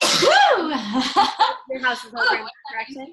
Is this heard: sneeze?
yes